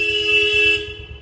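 A vehicle horn honks on a village street, a sustained steady toot for about a second that then cuts off, over a rhythmic low engine rumble close by.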